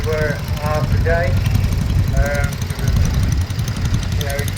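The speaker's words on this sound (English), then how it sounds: "Another small garden tractor from International behind there" A small International garden tractor engine runs at a steady idle, a loud, rapid low chugging that continues throughout, with voices talking over it at intervals.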